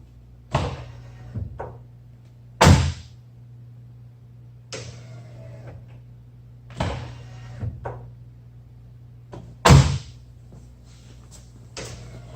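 A Jeep Rubicon JL door opening and Amp Research power running boards folding, heard as a series of separate mechanical thunks and clunks with short whirring motor bursts between them and no talk.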